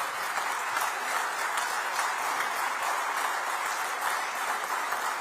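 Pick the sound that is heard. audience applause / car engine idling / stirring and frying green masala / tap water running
audience applause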